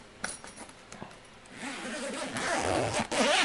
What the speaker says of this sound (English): this design has a zipper on the top. It makes it very simple to simply unzip